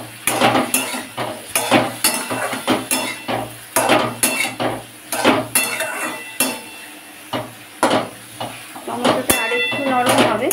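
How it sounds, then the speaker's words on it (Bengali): A metal spoon stirs and scrapes fish curry with chilli and turmeric in a pan, clattering against the pan in loud, irregular bursts over a low sizzle. "লঙ্কা হলুদ দিয়ে ভালো করেই কষানো হয়ে গেছে"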